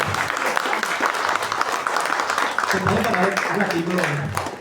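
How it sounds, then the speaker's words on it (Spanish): A warm round of applause fills an anniversary event hall in Asunción, Paraguay, for an honoured guest. The clapping runs steadily and fairly loud, with a voice starting to speak over it toward the end. "si le pueden brindar un fuerte aplauso para Gabriela"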